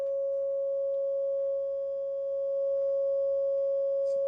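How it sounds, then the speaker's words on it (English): A steady, pure electronic sine-wave test tone played through a 1981 Mesa Boogie Mark IIB guitar amplifier holds at one pitch throughout, continuous and unwavering, with a faint low hum beneath it. "we're just running the sine wave about 500 millivolts through the input there"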